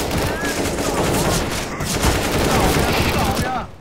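Rapid gunfire fills a round of Counter-Strike: Global Offensive, loud and continuous bursts that stop abruptly near the end, with players' voices faintly under the shots.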